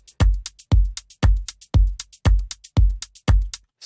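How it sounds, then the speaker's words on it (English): Tight shakers from the Daydreamer Organic House sample pack give short, crisp high ticks and shuffles in a steady pattern, locked to a regular pulse of deep, booming kicks, up close and loud. "Some tight shakers as well, which you can find from the Daydreamer Organic House sample pack"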